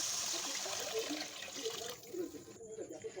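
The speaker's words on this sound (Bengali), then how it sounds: "এর মধ্যে এবার আমি জল দিয়ে দেবো" Water is poured into cooked biryani masala, making a steady close rushing pour that thins and breaks up toward the end.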